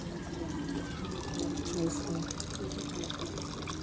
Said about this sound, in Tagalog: Paagas ko tubig guys.